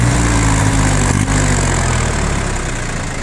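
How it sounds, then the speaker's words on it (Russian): Yanmar FX20D Japanese four-wheel-drive mini tractor with tiller, diesel engine running steadily at revs, a loud continuous low rumbling drone close by. "Двигатель обороты берет отлично просто."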